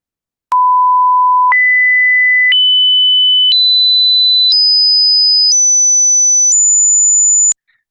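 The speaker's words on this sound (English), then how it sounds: "I think you can at least hear that it keeps going up and up and up in frequency" A loud pure electronic sine tone that steps upward in frequency roughly every second, climbing through several stages up to about 7,000 hertz before cutting off abruptly.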